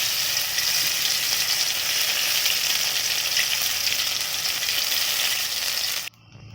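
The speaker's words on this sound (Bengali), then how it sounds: "এরপর এগুলো ভেজে নেবে ছোট ছোট করে।" Poppy seed fritters sizzle loudly in mustard oil in a wok, a steady close frying hiss that cuts off abruptly near the end.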